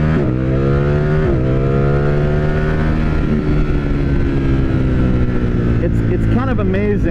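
A 2021 Ducati StreetFighter V4S roars close up under load, its engine pitch climbing through long gears with brief dips at each shift, wind rushing over it and no voice heard.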